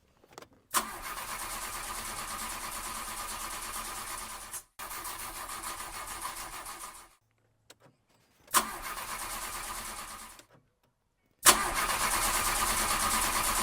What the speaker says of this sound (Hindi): अरे गाड़ी स्टार्ट नहीं हो रही